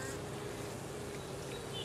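Honey bees drone in a steady, dense hum from a cut-open bee tree, close and continuous for the whole moment with no talking.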